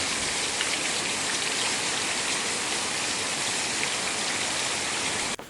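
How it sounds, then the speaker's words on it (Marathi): Heavy monsoon rain pours down steadily in a Konkan village in a dense, hissing wash, loud and unbroken, ending with a brief thump at the very end. "बघा कसा मस्त पाऊस लागतोय गावी"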